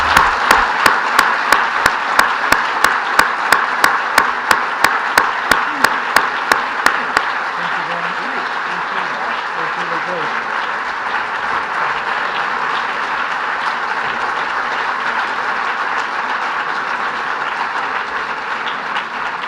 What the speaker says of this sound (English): Let's give Paul a big round of applause